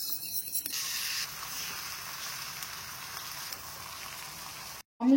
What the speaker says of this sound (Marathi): याच पॅन मध्ये थोडंसं बटर टाकून एक ऑमलेट बनवून घेऊ